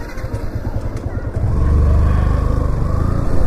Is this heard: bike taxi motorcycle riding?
yes